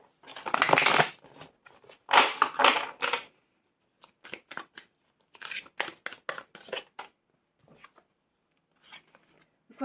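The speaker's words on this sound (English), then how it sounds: "Let's get some oracle cards for you." Oracle cards are shuffled during a tarot and rune reading, heard as a series of crisp riffling bursts, two long ones and then shorter clustered flutters, close and clear with no talking.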